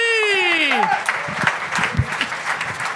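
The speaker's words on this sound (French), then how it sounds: "Bonne main d'applaudissements!" A TV game-show audience applauds loudly and steadily for a performer, the clapping dense and continuous over a rising sound effect at the start, with shouts and voices mixed in.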